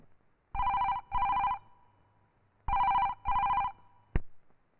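A telephone rings in two paired bursts, each a double electronic trill, loud and close, followed by a short click as the receiver is picked up; no voices.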